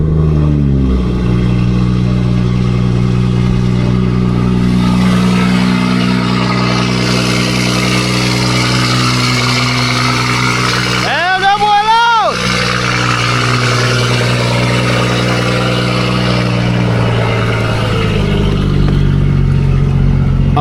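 Loud, close drone of a BMW 440i engine on a cold start, holding a steady idle with one brief sharp rev that rises and falls near the middle.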